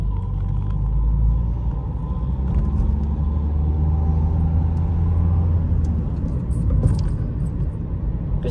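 A car engine accelerating during a driving lesson, heard from inside the cabin as a loud, continuous low rumble that holds steady throughout.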